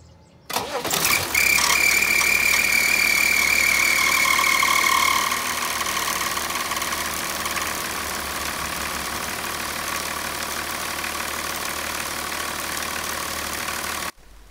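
A BMW E34 525 TDS with the M51 diesel engine cranks and fires, belts squealing loudly as they slip on spilled coolant for several seconds before the squeal fades into a steady, close diesel idle.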